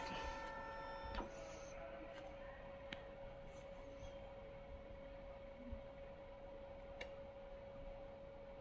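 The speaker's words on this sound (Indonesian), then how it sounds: "turn off ko na po yung printer" An Epson L565 inkjet printer hums steadily while being switched off, with a few sharp clicks and ticks of its mechanism, close by in a quiet room.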